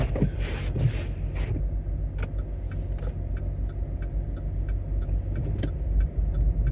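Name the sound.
car driving past in the cold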